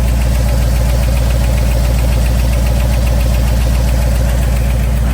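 A 1985 Ford Bronco fitted with headers and MSD ignition idles loudly up close, a constant, throbbing rumble with a steady knocking pulse and no talk over it.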